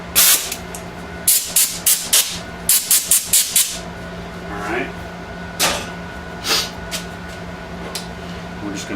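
Short bursts of compressed air hiss over a Bridgeport mill and its fixture plate, around a dozen quick close blasts in clusters, then a few more spaced puffs as someone talks.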